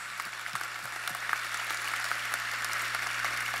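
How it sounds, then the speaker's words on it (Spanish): Loud, steady applause from a large audience at a religious congress in Kansas, a dense wash of clapping held at even strength from start to finish, with a low hum underneath. "Pues un aplauso fuerte para nuestro Rey."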